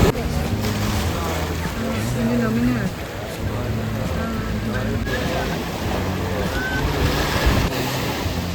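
Sea waves wash in at the Kanyakumari sunset point, a steady roar of surf with gusting wind buffeting the microphone, while voices murmur faintly in the background.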